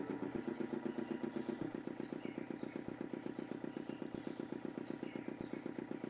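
A motor splutters into life and settles into a steady, rapid chugging idle in Broken Sword II: The Smoking Mirror, a rhythmic mechanical putter heard faintly on its own.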